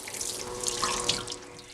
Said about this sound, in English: Then the kettle is scrubbed with water and a brush thoroughly.